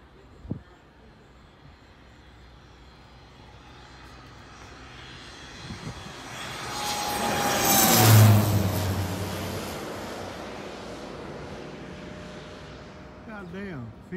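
A propeller airplane at a Walmart parking-lot airshow makes a low pass overhead, its engine drone swelling from faint to a loud roaring peak and fading away, with people talking nearby.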